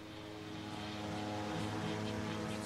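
A giant fan 1.8 m across, driven by a 350 hp motor and able to produce winds over 150 km/h, gives off a loud, steady roaring whoosh with a droning hum underneath that holds constant throughout.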